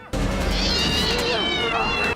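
A cat meows loudly and continuously for about two seconds in the film How the Grinch Stole Christmas, a drawn-out wavering cry sitting over music.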